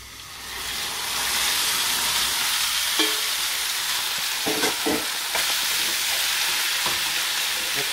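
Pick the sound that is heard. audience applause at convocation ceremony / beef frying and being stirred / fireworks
beef frying and being stirred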